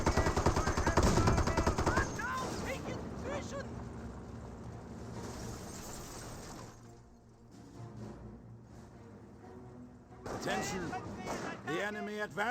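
MG42 machine gun rattling in a Company of Heroes 1 battle against Volksgrenadiers, fast repeated bursts heard at moderate distance under continuous commentary, with a quieter lull before firing resumes.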